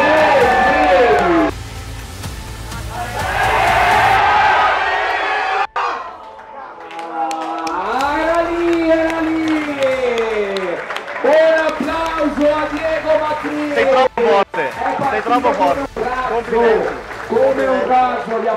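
Coaches and spectators at a calisthenics competition burst into loud applause and cheering, clapping and shouting in a crowd, with a commentator talking excitedly over it.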